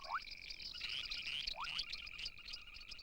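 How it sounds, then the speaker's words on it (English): A dense chorus of frogs croaks and trills continuously at night in Africa, with overlapping rapid calls, loud and fairly close. "As night falls, the frog orchestra tunes up."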